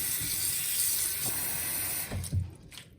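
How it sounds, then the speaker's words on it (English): Cold tap water runs steadily into a stock pot, a broad hissing stream that changes pitch and thins out near the end with a few splashy bumps. "Now all I'm doing is filling this with water"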